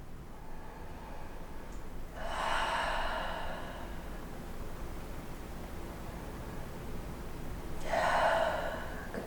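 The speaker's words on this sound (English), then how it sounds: "Just take a few nice cleansing breaths here." Two slow, deep breaths during a quiet yoga class, each a soft airy exhale several seconds apart over a faint background hiss.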